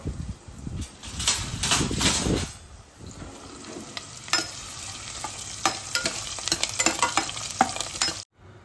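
Spices sizzle sharply in hot oil as a tempering for khichdi, a loud crackling burst at first that settles into steady frying with scattered pops and stirring.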